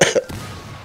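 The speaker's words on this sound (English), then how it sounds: "See, I need to cough." A single short cough, close and sharp, followed by a faint exhale and low background noise, voiced during online war-game play.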